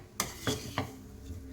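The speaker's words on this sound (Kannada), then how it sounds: "ಈಗ ರವಾನ ಚೆನ್ನಾಗಿ ಹುರಿಬೇಕು" Semolina (rava) being dry-roasted and stirred in a pan for rava idli, with three distinct scraping clinks of a spoon against the pan at steady intervals over a low background hum, close and fairly quiet.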